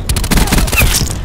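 A cluster grenade in Call of Duty: Black Ops 4 multiplayer Team Deathmatch goes off as a loud, close, rapid string of crackling blasts, like a burst of gunfire, filling the short moment.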